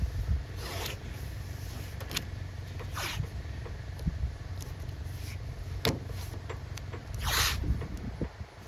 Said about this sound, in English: I'm going to put a piece of masking tape around the outer edge of this first